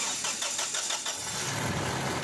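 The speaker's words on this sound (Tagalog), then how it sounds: "Dahil sa okay na ito, pa-start ko na itong makina." A Toyota Innova engine with a check-engine fault and erratic idle cranks with a rapid rhythmic churning, then catches and settles into a steady low running rumble close by.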